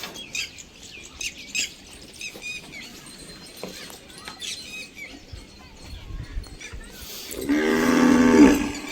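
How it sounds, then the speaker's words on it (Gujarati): Cows mooing in the rain, a loud close moo near the end after a stretch of scattered bird chirps and faint rustling, with no talking. "ગાયું બધી ઊભી છે જુઓ"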